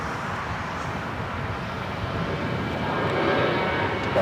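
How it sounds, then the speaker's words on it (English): A United Airlines Boeing 737-900ER jet at Los Angeles airport gives a broad, steady roar of moderate loudness that swells slightly toward the end, heard alone at some distance. "It's United Airlines Flight 2403 headed to Houston on a 737-900 ER"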